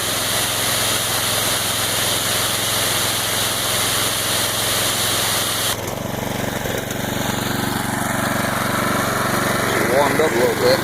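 A pressure washer engine runs loud and continuous, a buzzy small-engine drone that shifts pitch slightly midway as it keeps running close by.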